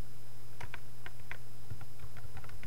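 Light, quick clicks of fingers typing on a computer keyboard, a short burst of scattered keystrokes in two clusters over a low steady hum, close and fairly quiet.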